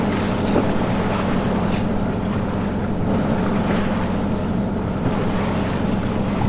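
A lobster boat passes in Northeast Harbor, Maine, heard from aboard a 1936 wooden boat as a continuous low engine rumble blended with wind and water noise, steady and fairly loud throughout.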